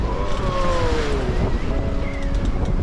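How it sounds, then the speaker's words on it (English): A big wave strikes a sailboat at sea on a passage from Norway to Shetland, with a broad roar of water and steady wind noise across the microphone throughout, no speech. "big wave."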